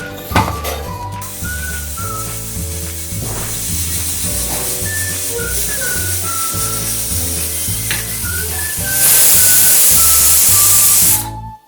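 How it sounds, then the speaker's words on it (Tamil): Steam hisses loudly from a pressure cooker cooking rice porridge (kanji) for several whistles, a strong rushing burst near the end over steady background music. "மூடி போட்டுட்டு நம்ம ஒரு 6-7 விசிலுக்கு வச்சிடலாம்."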